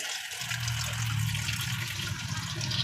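Running water pours steadily over mung beans being washed, a close, even rush of liquid with a low rumble that holds for the whole clip without pause.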